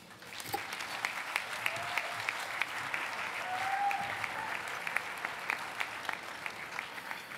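Audience applause at a children's museum gala welcoming a speaker to the stage, a steady moderately distant wash of many hands clapping that swells slightly midway and continues throughout.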